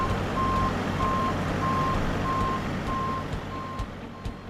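A truck at a poultry farm sounds its reversing alarm, seven evenly spaced beeps over steady engine rumble, loud and close, with no voices.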